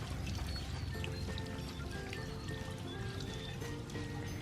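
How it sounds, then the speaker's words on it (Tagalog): Water pours steadily into a fishpond as it is refilled, a continuous loud splashing and trickling wash that holds at an even level throughout with no speech. "Nilalagyan po ng tubig."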